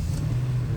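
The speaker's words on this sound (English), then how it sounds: "I'm gonna turn off the car, turn it back on" A 2016–2023 Nissan Titan engine idles steadily after a restart, a loud, close, continuous low rumble with no talk over it.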